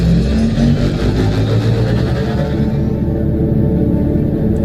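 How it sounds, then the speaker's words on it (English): Spaceship engine powering up in the space game Star Citizen, a loud continuous low rumble and hum that stays steady throughout, with no voices over it. "Star Citizen. Engine systems enabled."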